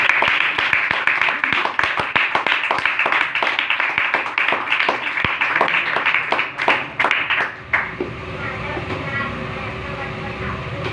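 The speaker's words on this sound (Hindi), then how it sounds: "एक बार जोरदार ताली" A church congregation claps loudly together for about eight seconds in a dense run of sharp, close hand claps, then the clapping breaks off and a quieter room hum remains.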